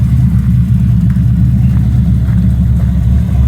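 A TVR Tamora 350 BHP muscle car engine idling steadily with a loud, constant low rumble throughout, no talk over it.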